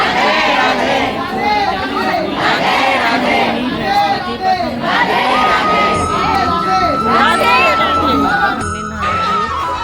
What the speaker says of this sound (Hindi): देखो कितनी भीड़ होती है बांके बिहारी मंदिर पर